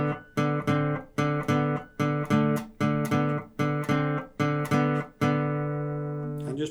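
Acoustic guitar chords strummed in a steady, bouncing blues rhythm, evenly repeated strokes close up, ending on a held ringing chord.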